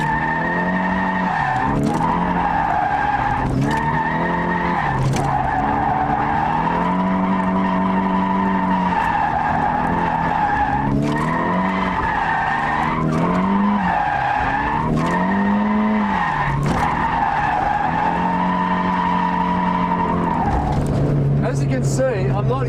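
A drifting car skids and squeals its tires while swaying down a straight, the engine droning loudly throughout with repeated rising and falling squeals, and a voice talks over it.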